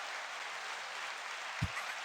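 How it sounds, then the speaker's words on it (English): Continuous applause from a big crowd fills the whole stretch as an even, dense clapping texture, broken once near the end by a brief low thump. "enjoy the applause"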